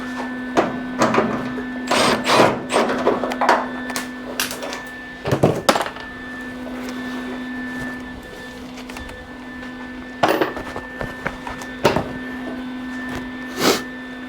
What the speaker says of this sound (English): Back this screw out now.